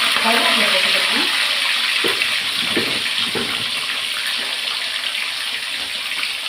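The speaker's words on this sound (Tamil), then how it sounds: "கருவேப்பிலை பொடியுது." Curry leaves and dried chillies crackle and sizzle in hot oil, a loud hissing spatter with scattered pops, close up, while a voice talks over the frying.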